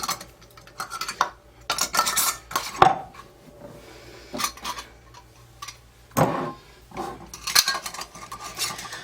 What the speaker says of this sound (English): I'm going to load these in the canner